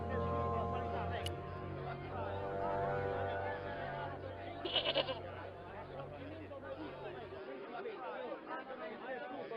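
Goat bleating in the point-and-click adventure game Broken Sword 2: The Smoking Mirror, set in the village of Quaramonte, wavering bleats mixed into a busy background of crowd chatter and game music.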